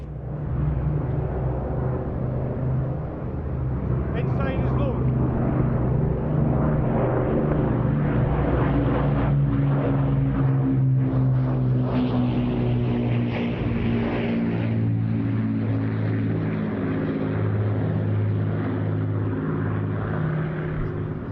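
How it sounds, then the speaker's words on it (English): Battle of Britain Memorial Flight propeller warplanes, including a Spitfire, Hurricane and Lancaster, pass over an airshow in Scotland with a loud, sustained piston-engine drone whose pitch slowly shifts as they go by. "Side, Spitfire, the Hurricane, the Lancaster, Royal Air Force Battle of Britain Memorial Flight."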